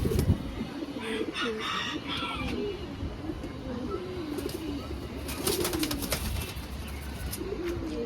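Several pigeons cooing in low, rolling repeated calls, close by on a house rooftop, with faint chirps and rustling in the background.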